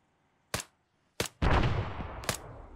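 Gunfire in ArmA 3: two sharp isolated shots, then a heavier blast with a long rumbling tail, and one more crisp shot near the end, loud and close with quiet gaps between.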